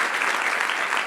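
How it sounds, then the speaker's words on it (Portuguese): A church congregation claps for the volunteers who prepared a Christmas tree, a brief steady burst of applause in a large room with no voices over it. "Dá uma salva de palmas aí,"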